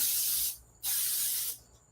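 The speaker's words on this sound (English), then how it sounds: "So I actually have 0-calorie oil spray" Two short hissing bursts from an aerosol zero-calorie cooking oil spray can, each lasting about half a second, with a brief pause between them, close up.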